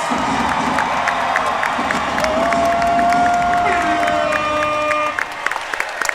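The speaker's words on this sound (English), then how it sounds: "Let's make some fucking noise for both of these fighters." A crowd at a fight event cheers loudly for both fighters after a bout, with sustained roaring, whoops and claps that ease off near the end, as a voice is faintly heard beneath.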